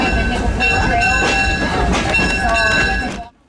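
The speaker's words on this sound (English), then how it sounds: "the train steams farther away from the main museum area" A steam train rolls along the rails close by at a railroad museum, loud rumbling with rhythmic clacks and a steady tonal hum, then cutting off abruptly at the end.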